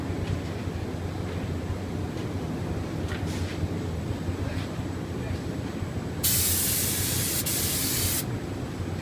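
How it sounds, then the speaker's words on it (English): A Wagner TwinControl air-mix spray gun gives a sharp, loud hiss of spray lasting about two seconds after a stretch of steady background machinery noise. "we've got a nice even spray pattern all the way across"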